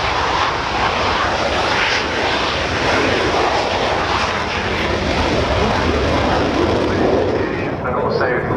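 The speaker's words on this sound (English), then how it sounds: "now on the roll in his favourite, his own personal aircraft, Miss Demeanour, Johnathon Whaley" A Hawker Hunter jet on its take-off roll at the RNAS Yeovilton Air Day roars loud and continuous, a dense broadband engine blast under a commentator's voice.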